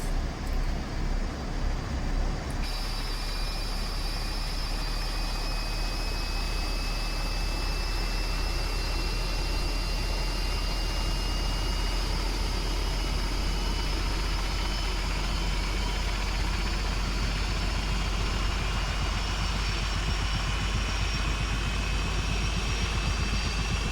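A Westland Scout/Wasp helicopter engine starts up in a flight simulator game: a steady, loud turbine roar with thin whining tones that rise gradually as the rotor spins up. No one speaks.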